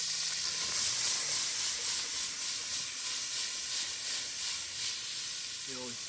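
Saltfish and onion fry in a pan, a steady bright sizzle with a gently pulsing hiss, fairly close, and brief murmured talk near the end.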